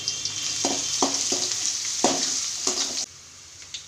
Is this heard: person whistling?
no